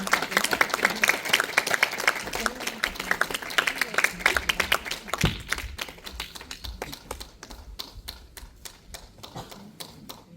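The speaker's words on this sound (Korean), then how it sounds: "큰 박수로 부탁드립니다." An audience at a Korean national dance company's open rehearsal talk claps to welcome four teachers on stage, a full burst of applause that thins after about five seconds into scattered, distinct claps fading out.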